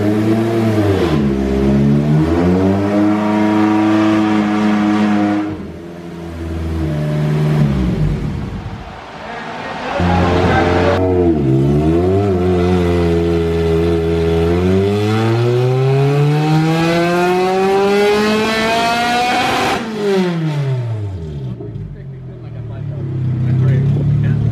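A Bisimoto Honda K24-powered wagon revs hard on dyno rollers, the engine note climbing through repeated loud pulls with brief drops between them, sustained and close.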